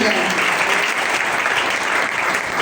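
Crowd at a political gathering breaking into loud applause, dense continuous clapping filling the whole moment, with voices faintly mixed in.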